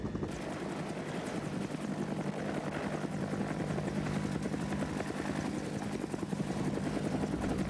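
A helicopter's rotor thumps steadily with a constant engine roar throughout, fairly close and continuous, with no voices.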